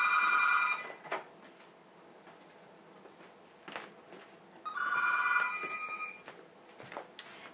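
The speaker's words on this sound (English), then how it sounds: "I'll just have to take the phone call." Telephone bell ringing in two trilling bursts separated by a quiet gap, fairly close and clear with no talk over it.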